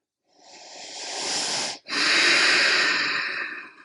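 Slow, deep breathing during a yoga session, close and alone: one long airy inhale, a brief pause, then an equally long hissing exhale.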